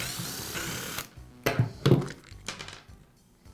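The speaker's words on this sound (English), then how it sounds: "I'll begin by removing the side cover from the handle." Side cover being pried off the handle of a Makita belt sander during a cord guard repair, with scraping plastic rustles and a couple of firm knocks and clatters up close, then quieter handling sounds.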